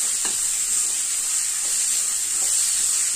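Masala for chicken biriyani sizzles steadily in a pan while being turned and stirred, with a constant bright frying hiss and a few soft scraping strokes, no voices.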